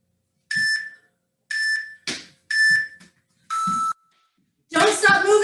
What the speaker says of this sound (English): Don't stop moving until you hear that long beep after the 3 short beeps.